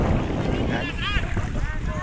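Strong, deafening wind sweeps a beach at high tide with boats nearby, a continuous roaring buffet against the microphone, with faint voices in the mix.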